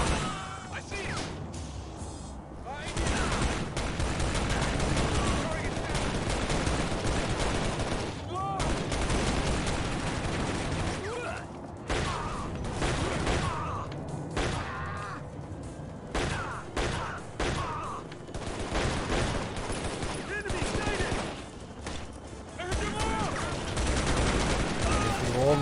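Sustained gunfire from the shooter game Shadow Ops: Red Mercury, with dense bursts and rapid automatic shots running continuously over nearly half a minute, mixed with game noise and voices.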